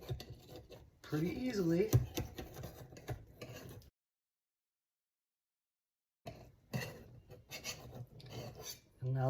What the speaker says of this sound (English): take a knife and run it around the edge